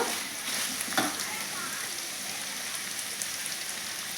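Eggs frying in oil in a pan for egg curry, a steady broadband sizzle that hisses evenly throughout, with one brief louder crackle near the start and no talk.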